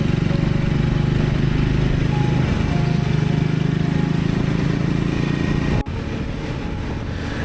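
Triumph Scrambler 400 X motorcycle cruising on an Indian express highway, a steady loud engine drone with road and wind rumble throughout, briefly dipping near the end, no voices.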